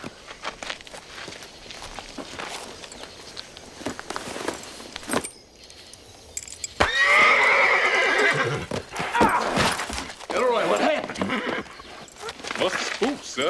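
Hooves clop on hard ground, then a horse lets out a loud, drawn-out whinny up close, with people talking around it.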